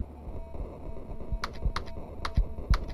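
Keyboard typing sounds from the video game KinitoPET: a short run of crisp, evenly spaced key clicks over a low, steady background hum, with no voices.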